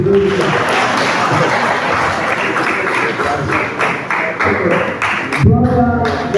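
A graduation assembly audience claps for a speaker, loud and close, with uneven bursts of hands mixed with voices and a chuckle, and a sharper sound cutting in near the end.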